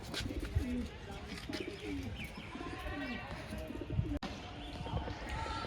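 Homing pigeons coo softly in low, repeated throaty calls against a busy background of rustling and small knocks, with one sharp click near the end.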